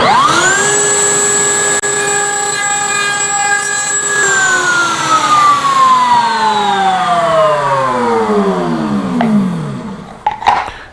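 A bearing-guided router spins at a loud, steady high whine while cutting a roundover bead on a wooden divider for a Chippendale slant front desk gallery, then winds down in a long falling tone and stops.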